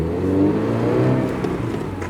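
A 2022 Subaru BRZ or Toyota GR86, just given a transmission oil change with AMSOIL 75W90 on a cool day, pulling away in first gear with a steady, close engine drone that climbs slightly in pitch.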